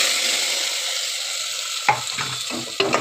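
An onion and tomato paste sizzles loudly in hot oil, followed by a few scraping stirs of a spoon against the pan near the end.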